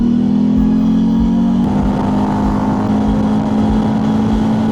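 Road traffic in a jam heard from a motorcycle, a loud steady engine drone with a low hum throughout and a slight shift partway, no speech.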